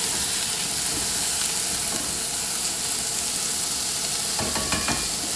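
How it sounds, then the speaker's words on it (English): Chicken seasoned with ginger and garlic stir-fried in a pan, giving a loud, continuous sizzle with the scrape of stirring, and a burst of sharper crackling near the end. "stir frying is a relatively dry process"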